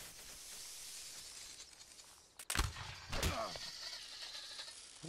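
Musket volley fire in the Napoleonic Wars video game: a sharp close crack of shots around the middle, then a second burst of firing, over steady hiss and background game noise.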